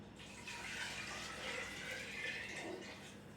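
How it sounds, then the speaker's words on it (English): Water pouring from a container into a soup pot for a Tuscan stew, a continuous soft splashing stream at low volume, heard alone. "I'm also going to be adding about 6 cups of water."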